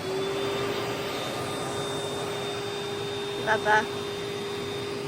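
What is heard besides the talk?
Hoover vacuum cleaner running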